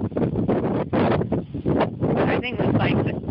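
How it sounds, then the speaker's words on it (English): Cold, strong wind buffets an outdoor microphone, making a continuous rough roar with gusty surges and no pauses. "it's so cold and windy. You probably can't hear me."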